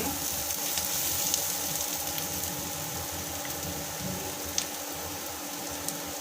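Onions for an egg gravy sautéing in a pan, a steady soft sizzle and crackle close by with a faint low hum beneath and an occasional tiny pop, no talking.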